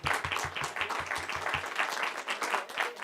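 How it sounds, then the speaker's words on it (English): A small audience claps for volunteers at a church-style gathering, with quick regular claps early on settling into a looser, moderate round of applause. "So, round of applause for all of our volunteers."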